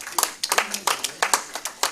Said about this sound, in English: A round of applause again for Daktari